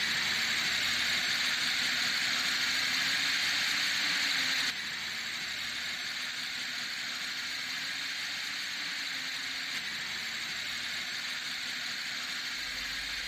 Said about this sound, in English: The engine has started and is running now only on char gas.